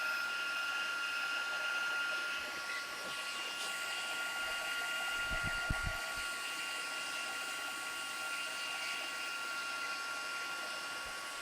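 A heat tool blows continuously while melting gold embossing powder in card-making. It makes a steady, airy whir like a small hair dryer, with a few soft knocks around the middle.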